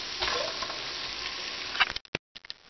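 Food sizzles steadily in a lidded frying pan, a loud close crackle that breaks off near the end into a few brief scraping taps as it is flipped.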